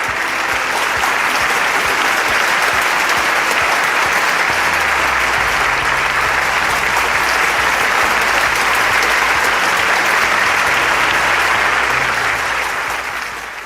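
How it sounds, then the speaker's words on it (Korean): A large audience at the 2021 World YSP general assembly gives a long, loud, sustained round of applause, a dense roar of clapping that holds evenly for over ten seconds before beginning to taper, with a low hum underneath. "오늘의 주인공이신 분들에게 다시 한번 큰 박수 부탁드립니다"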